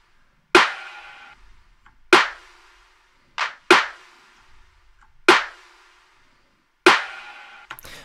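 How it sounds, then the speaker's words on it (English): Six sharp, bright hits of a layered snare and clap sample, the top layer high-passed with boosted highs, land at an even, unhurried spacing, each with a short decaying tail and silence between. "is the snare, or the clap with its layers."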